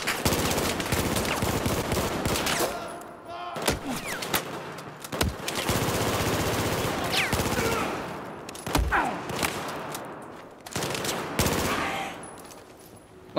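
Sustained machine gun fire and rapid gunshot bursts in the video game Battlefield 4, loud and dense with brief pauses, with players' voices mixed underneath.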